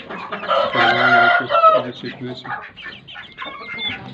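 Rooster crowing amid clucking chickens in a backyard coop where chicks are kept, the crow loud and close at the start before tapering into scattered clucks and softer fowl calls.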